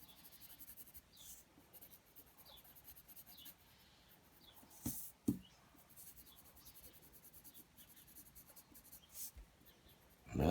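Pencil scratching and rubbing across paper while sketching and darkening the lines of a bison drawing, soft and close, with a few brief louder scrapes midway.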